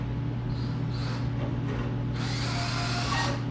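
A power drill driving into wood whines steadily with a grinding burst partway through, close and loud over a constant motor hum.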